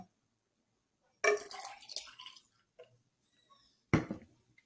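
Water poured from a container onto salt inside another container, heard as a short burst of splashing and dripping that tails off, followed by a second brief splash a few seconds later, with no talk.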